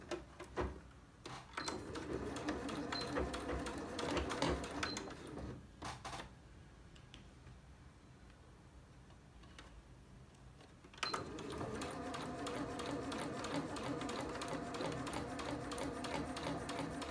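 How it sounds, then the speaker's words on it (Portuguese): A straight-stitch sewing machine runs in steady bursts while sewing elastic onto fabric for a nightgown and robe, a fast rhythmic mechanical chatter that stops for a few seconds midway, then resumes at the same pace. "eu vou estar fazendo essa costurinha aqui na minha máquina reta mesmo"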